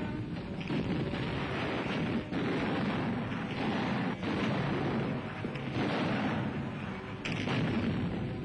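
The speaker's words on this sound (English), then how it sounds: "To the thud of falling bombs is added the hard slamming of artillery." Artillery guns firing during the 1944 battles in Normandy, France, a dense continuous roar of heavy gunfire with repeated dull thuds and blasts rolling over one another, loud and unbroken.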